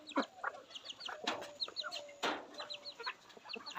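Chickens cluck and chatter in a busy farmyard flock, many overlapping short calls near and far with a few louder squawks, steady throughout.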